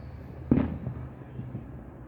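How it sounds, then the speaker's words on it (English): A single Fourth of July firework bursts with a muffled, distant thump, followed by a few faint crackles fading in the night air. "You guys enjoy the fireworks."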